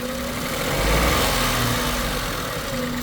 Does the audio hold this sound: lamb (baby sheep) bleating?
no